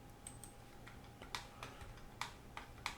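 Quiet computer keyboard typing and mouse clicks at a desk during CAD work, with sparse, faint taps and a few sharper clicks spaced irregularly.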